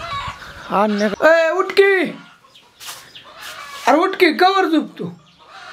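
A chicken clucks close by in short, throaty bursts, mixed in with a person talking loudly nearby.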